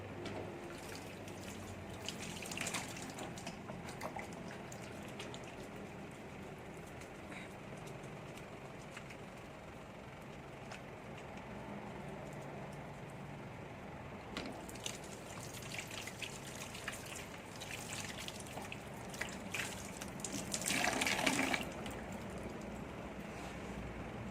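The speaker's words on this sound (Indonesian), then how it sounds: "kita lepas handskun dan kita cuci tangan" Tap water runs steadily while hands are washed after removing gloves in a clinical skills practice session, a soft continuous trickle with louder splashing bursts near the end.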